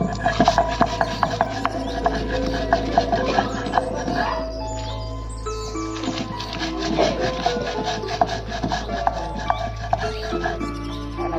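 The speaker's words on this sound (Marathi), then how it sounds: "जिरे याला छान आपण पाट्यावर वाटून घेऊया" Cumin and garlic crushed by hand on a traditional flat grinding stone in a village kitchen, giving repeated rough scraping and knocking strokes at close range, steady and fairly loud with a brief break midway.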